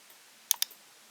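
A computer mouse clicks twice in quick succession while working in an Excel spreadsheet, sharp and close in an otherwise quiet room.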